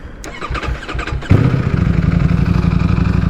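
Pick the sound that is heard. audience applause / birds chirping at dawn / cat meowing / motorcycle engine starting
motorcycle engine starting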